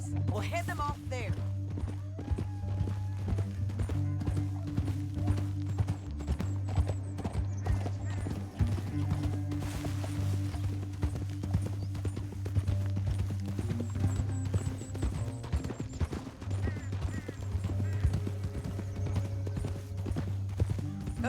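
Horse hooves clip-clop at a walking pace in Red Dead Redemption 2, close and steady beneath a low musical score, with a brief neigh and characters talking over it.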